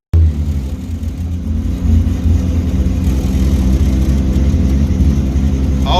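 An old Nissan Skyline GT-R, a replica at a GTR festival in New Zealand, runs loud and close with a deep, steady engine rumble that swells slightly as it revs, with no voices over it.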